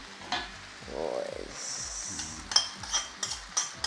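Homemade nasi goreng fried and stirred in a pan in a home kitchen, with repeated scraping strokes of a utensil, a steady sizzle, and a few sharp metallic clinks near the end.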